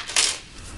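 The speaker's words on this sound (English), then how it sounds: "I'm going to shuffle up this deck of cards" A deck of playing cards is shuffled once during a performance, a short crisp riffling burst near the start that fades into quiet room noise.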